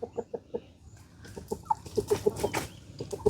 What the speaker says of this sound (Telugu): కోడి పిలుస్తున్నది